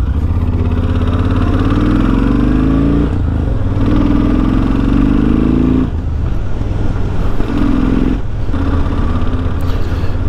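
A Kawasaki VN1500 chopper motorcycle engine running loud and close, with deep throbbing idle and a few revs rising and falling.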